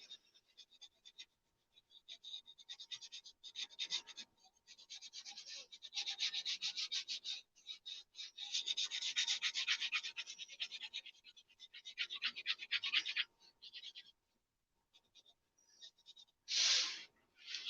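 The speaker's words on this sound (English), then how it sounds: "Really gently pressing, just shading it slightly" Graphite pencil lightly shading a rose drawing and its small stem on paper, a soft close scratchy rubbing in bursts of strokes with short pauses between, quiet and alone.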